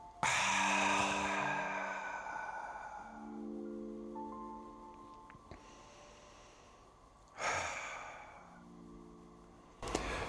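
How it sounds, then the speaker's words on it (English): Short, sharp Sufi-style breaths through the nose or mouth: a loud burst of quick inhales and exhales at the start, then quieter stretches with two more brief sharp breath bursts later, close to the mic. "So, Sufi breathing, those short, sharp, fun inhales and exhales, nose or mouth."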